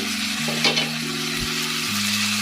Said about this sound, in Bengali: ম্যারিনেট করা চিকেনটা দিয়ে আমি ঢেকে ঢেকে এটাকে 5 মিনিট ধরে কষিয়ে নেব